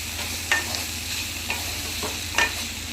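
A pan of broccoli, onion stalks, coriander leaves and whole green chillies sizzles evenly up close, while a utensil stirs and taps the pan about four times at uneven intervals; no one speaks.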